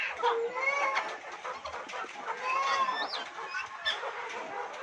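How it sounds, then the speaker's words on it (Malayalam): Caged chickens fed biryani cluck and chatter steadily and close by, with overlapping calls filling the whole stretch and no clear talk. "കോഴികളെല്ലാവരും ആർത്തിയോടെ കഴിക്കുന്നതാണ്"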